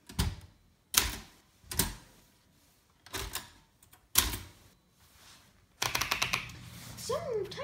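Keys of a manual typewriter strike in slow, separate, sharp clacks, six or so spaced a second apart, then a quick burst of clattering strokes with a faint mechanical whir near the end.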